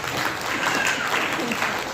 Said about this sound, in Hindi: तालियां तो बजा दिया।